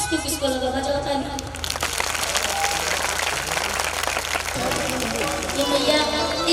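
An audience at a live Ram Siya Ram devotional event in Kanpur bursts into sustained clapping, a loud, dense wash of applause that swells in after a sung passage, with music and voices continuing underneath.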